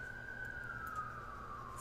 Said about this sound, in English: I talked right through a freaking siren